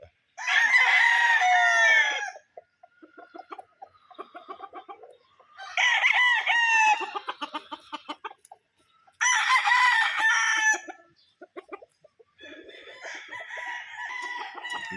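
A gamefowl rooster crows loudly and close several times in a row, with short clucks and quieter bird sounds between the crows.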